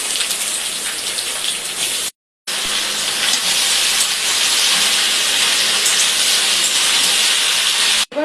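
Ash gourd fries with whole cumin and ginger in a hot pan, giving a loud, dense, continuous sizzling hiss that cuts out briefly once and then returns just as strong.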